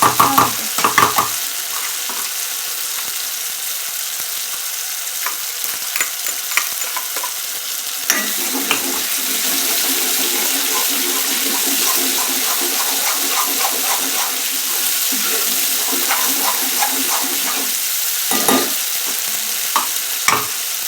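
Soaked cashews fry in a pan, hissing and crackling loudly and close up, with splashy bursts at the start and again near the end.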